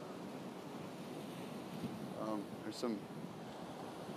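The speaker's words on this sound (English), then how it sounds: "It's very windy here, by the way." Steady wind blows by the ocean with surf rumbling underneath, a constant broadband roar throughout, while a person briefly speaks partway through.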